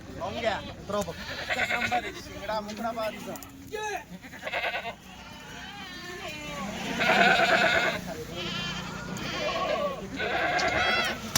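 Kathewadi goats bleat repeatedly in loud, wavering calls close by on a farm, several cries spaced through the stretch, while people talk in between and over them.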